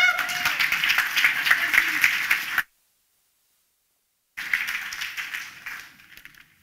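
A crowd applauds and cheers at an incubator cohort showcase, steady dense clapping that breaks off completely for a moment, then resumes and fades out.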